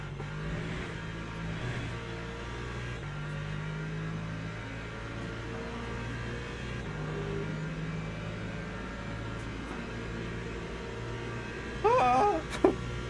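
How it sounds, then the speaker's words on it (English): Engines drone steadily from a race car in the Le Mans Ultimate racing game at a Daytona event as hypercars come through, a continuous layered engine note with shifting pitch, a brief sharper burst near the end. "Hypercars are coming through."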